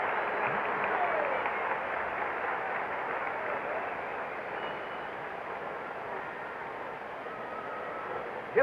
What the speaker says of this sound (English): Listen to the reaction from the crowd as Bob Gibson comes up.